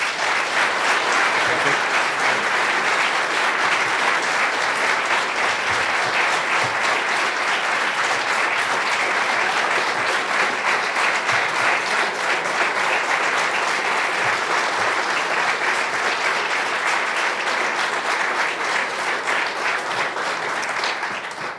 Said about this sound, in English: Let's give the two candidates a round of applause.